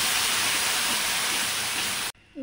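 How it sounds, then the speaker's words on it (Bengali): Spices frying in white oil and butter in a pan for paneer Kolhapuri, a loud, steady hiss that cuts off abruptly near the end. "মশলাটা দিয়ে দিচ্ছি ভালো করে ফ্রাই করে নিতে হবে"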